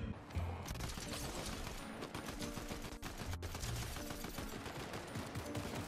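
Sustained rapid gunfire from Fortnite Zero Build, a dense stream of overlapping shots and bursts filling the whole stretch at steady loudness, with no talking.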